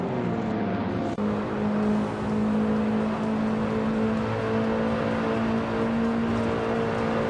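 Racing car engines drone in a video game race, a steady mid-loud whine holding a constant pitch, with a brief change in engine tone early on and no talking.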